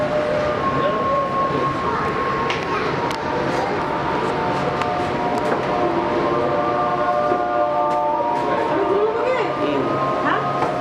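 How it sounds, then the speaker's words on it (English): A train in Switzerland rolls toward its final station, a continuous rumbling and rattling carriage noise with faint squeals, under people talking nearby. "The train is arriving at the final station."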